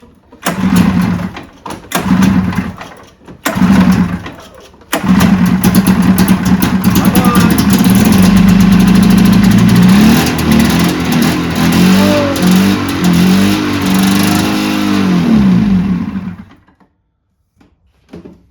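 A 1986 Arctic Cat El Tigre 6000 snowmobile's long-idle two-stroke engine tries to fire in short sputtering bursts, then catches and runs loud and buzzy for about ten seconds before dying out.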